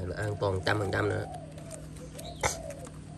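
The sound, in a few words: male cooing dove (spotted dove) cooing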